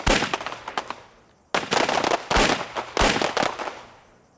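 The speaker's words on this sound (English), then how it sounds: "Now it's time to test the candidate's nerves on the firing range." Gunshots crack out on a SWAT firing range in rapid bursts, loud and close, with sharp reports clustered in three volleys separated by brief pauses.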